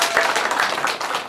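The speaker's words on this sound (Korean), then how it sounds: "박수할게요." Applause from a congregation at a Sunday morning high school church service, a dense steady patter of many hands clapping for just over a second without talk.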